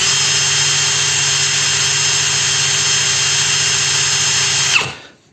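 A DEVETECH CIS 120 cordless drill-driver spinning at about 1710 rpm, a loud steady whine with no load that cuts off and winds down in the last half second.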